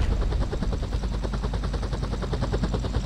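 A helicopter in GTA San Andreas thumps with steady, fast rotor pulses that run loud and constant throughout, with no voices over it.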